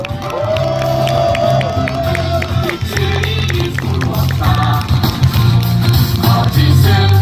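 An outdoor candlelight rally crowd at a memorial cultural event welcomes student singers with steady, loud applause and cheering, layered over tonal music and background voices throughout.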